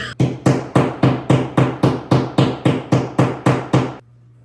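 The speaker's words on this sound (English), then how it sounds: "I am going to be hammering these little hanging nails in hooks that are on nails with a meat mallet" About fourteen sharp, evenly spaced blows of a meat mallet driving small picture-hanging nails and hooks ring out in a steady rhythm, each strike loud and close with a short ringing decay, then silence.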